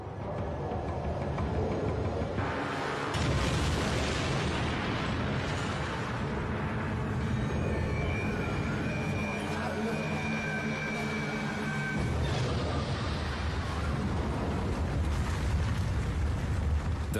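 The Fat Man atomic bomb bursts over Nagasaki, heard as a dramatised, sustained roaring rumble with a sharp surge early on and another late, loud and dense throughout.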